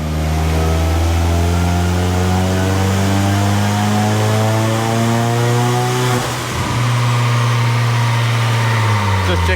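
A tuned 280+ kW big-turbo 1.8T VW Polo GTI running on pump fuel with methanol injection on a dyno, its engine droning loud and steady with a strong rising tone, briefly dipping near the end.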